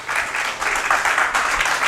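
A church congregation breaks into loud, sustained applause during an evangelical Bible study, the dense clapping continuing without pause and filling the room.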